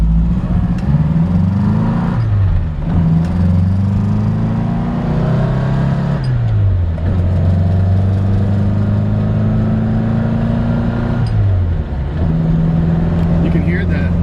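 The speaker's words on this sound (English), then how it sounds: "You can hear the engine runs strong" A 1961 Morris Mini MK1 drives under load, its engine note climbing in pitch through each gear and dropping at the shifts, repeated several times, loud and close inside the car.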